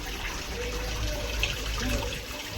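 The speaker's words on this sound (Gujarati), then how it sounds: "હાલો ને અમે ડોલ ભરી લીધી ને જાય છે ઠલવવા." Water filling a bucket at a family function, a steady rushing flow with faint gurgling, moderately loud and close, and low background voices.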